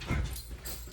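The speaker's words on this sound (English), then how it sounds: "it's my dog going crazy." A pet dog yips and whimpers somewhere in the background of a quiet indoor room, with short, uneven bursts of sound rising and falling through the second.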